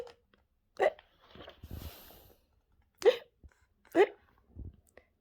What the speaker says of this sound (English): had the hiccups